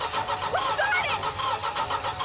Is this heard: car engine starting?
yes